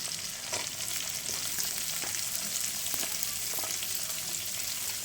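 Onion frying in a pan sizzles steadily and crackles, with the faint clicks of stirring now and then. The sound stays close and moderately quiet, with no talking.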